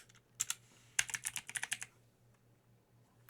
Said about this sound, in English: I'm going to start typing enhanced